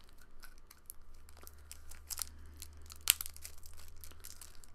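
A Magic: The Gathering Fate Reforged Clash Pack has its plastic wrapping peeled off, with quiet scattered crinkles and rustles and one sharp tearing snap partway through, close up and with no voices.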